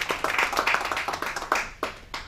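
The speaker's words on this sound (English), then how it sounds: "Please, let's give him a round of applause." Scattered audience clapping for a guest at a real estate event, a modest round of distinct claps that thins out toward the end.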